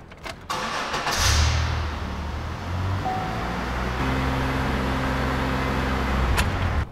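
A Chevy Impala engine cranks and catches, then settles into a steady, raised-speed run around 2,500 RPM, a constant mid-pitched drone close by with no talking.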